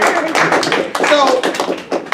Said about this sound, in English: Big clap for Marianne.